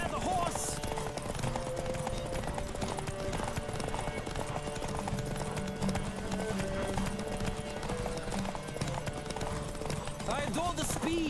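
A horse gallops at full speed in a race in The Witcher 3, its rapid hoofbeats steady and close under game music, with voices and an occasional whinny.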